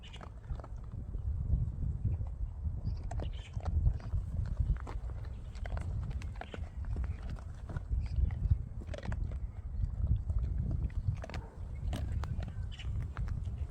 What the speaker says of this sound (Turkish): Güzel güzel kıtır kıtır yiyorsun.